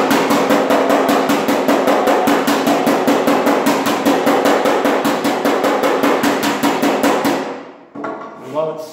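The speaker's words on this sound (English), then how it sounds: "Then you take your hammer." Rapid, steady hammer blows ring out on hot sheet metal of a Mopar fender for about seven seconds, loud and close, then stop, leaving a few faint clanks and scrapes.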